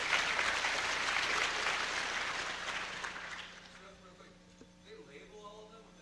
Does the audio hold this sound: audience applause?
yes